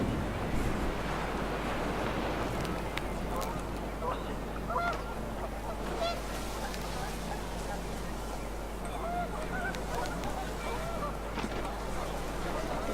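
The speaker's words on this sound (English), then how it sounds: "panicked geese appeared and quickly went" Panicked geese honking in the game What Remains of Edith Finch, scattered honks over wind and surf-like wash, with a narrator speaking over them.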